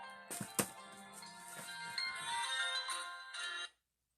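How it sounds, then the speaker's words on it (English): A phone alarm ringtone plays a bright repeating electronic melody for a few seconds, moderately loud and alone, then stops abruptly. "there's my alarm telling me I'm out of time"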